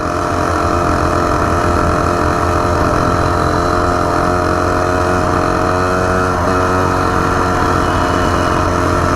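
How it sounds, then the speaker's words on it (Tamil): A steady Lamborghini engine drones loudly and continuously, hot and idling with a constant low hum throughout, no voices present. "இன்ஜின் ஹீட்டானா தாங்க கொஞ்சம் ரொம்ப சவுண்டு வருது"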